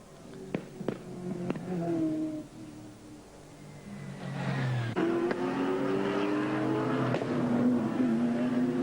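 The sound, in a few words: sports sedan race cars at Bathurst circuit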